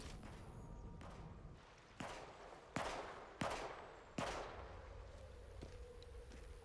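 Five sharp gunshots at rats in the video game Atomfall crack out in a fairly even sequence, each one loud and close with a short decaying tail, over a low steady background hum.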